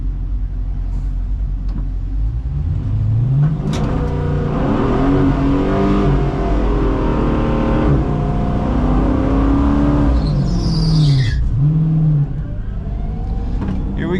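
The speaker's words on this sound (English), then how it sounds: "Just got my burnout in." A drag racing car does a burnout at Texas Motorplex, with a sustained, loud engine roar whose pitch rises and falls in several sweeping revs, ending in a high squeal near the end.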